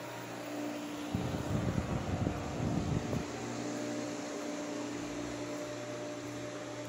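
A 2008 Chevrolet Malibu LTZ with a crushed air cleaner cranks briefly and catches, then settles into a steady low engine hum at moderate volume. No voices are heard.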